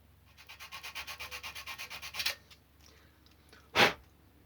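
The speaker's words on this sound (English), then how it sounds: "go over to 240 grade sandpaper and give it a rub with that as well" 240 grade sandpaper rubbed over a model locomotive body in steady back-and-forth strokes, about fifteen even passes close up, then a brief pause and one louder scrape or handling noise.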